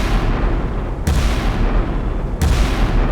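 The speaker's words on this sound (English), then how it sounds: "There's three triple turrets of 9 immense 16-inch 50 caliber guns." Massive booms from the nine 16-inch 50-caliber guns of an Iowa-class battleship in the naval game Sea Power, two heavy blasts about a second and a half apart over a continuous low rumble.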